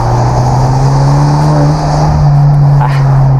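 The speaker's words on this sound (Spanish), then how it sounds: "Me encanta cómo suena el carro." Hyundai Genesis 2.0T sports car engine droning steadily while driving through Bogotá streets, a loud, close, constant low hum with a slight pitch shift mid-way as the revs change.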